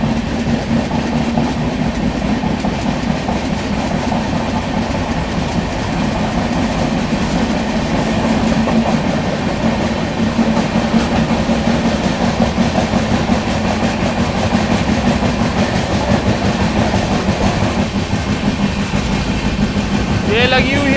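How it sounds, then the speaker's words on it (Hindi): Trains crossing on Indian railway tracks, one hauled by two diesel locomotives, with a steady loud rumble and rapid clickety-clack of wagons passing close for the whole stretch. "दो ट्रेनों के साथ एक बार में ही क्रॉसिंग हो गई।"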